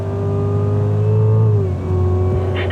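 A 2016 Cadillac CTS-V accelerates hard on a race track, its loud engine note climbing steadily in pitch, dipping briefly at a shift, then pulling again, close and continuous with no talk over it.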